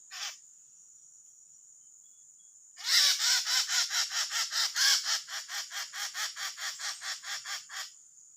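A loud bird caught with a lime-stick trap calls in a rapid series of some twenty sharp, evenly spaced notes lasting about five seconds, close and clear above a steady high insect-like whine.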